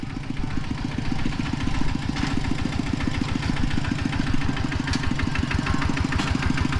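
A vehicle engine idles nearby in a rural village, chugging in a fast, even rhythm of low pulses that holds steady throughout without any voices.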